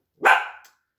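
A single loud bark from a nearby dog, sharp and short, then silence.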